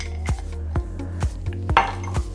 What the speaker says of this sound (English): Then we'll add some ice cubes, no certain amount, but we'll just put in a few